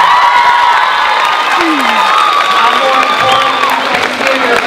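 A loud crowd cheers and whoops continuously, with clapping mixed in and high excited voices carrying over the din.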